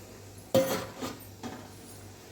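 A steel plate is set over steaming water on a gas stove and covered with a lid while making dhokla, giving a sharp metallic clank followed by two softer clinks, close and alone.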